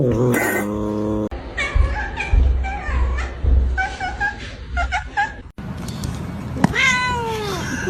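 A kitten meows repeatedly and insistently, close and loud, with short plaintive cries in bursts and a longer rising meow near the end, over a low background rumble.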